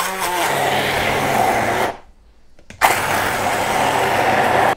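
A blender spins pumpkin pasta sauce with a loud, close, whirring roar, cuts out for about a second, then starts again at full power and runs steadily to the end, with no voices.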